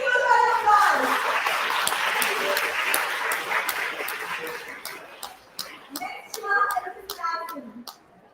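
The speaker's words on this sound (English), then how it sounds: "A big huge round of applause" An audience of schoolchildren at a school health fair claps in a dense, sustained round of applause that thins into scattered claps near the end, with a few children's voices mixed in.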